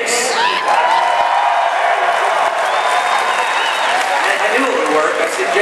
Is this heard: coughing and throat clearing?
no